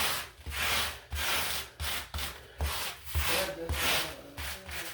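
A scraper tool drags repeatedly across a welcome mat, pushing pieces onto it in a steady series of close, rough scraping strokes with short pauses between them.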